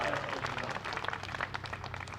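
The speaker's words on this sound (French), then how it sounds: "Bravo Léa qui marque son premier service, qui est évidemment applaudi par le public" Tennis crowd at a professional women's tournament applauding a player winning her first game, a short, fairly faint burst of scattered clapping from the stands with some murmuring.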